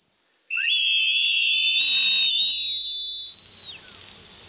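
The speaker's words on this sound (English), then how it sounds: "we've just heard a whistle." A search party's whistle blows outdoors on a ridge line, one long loud shrill blast that rises and holds for about three seconds and then cuts off, with quiet wind afterward.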